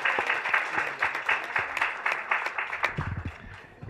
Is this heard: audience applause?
yes